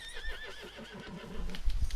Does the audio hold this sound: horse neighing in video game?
yes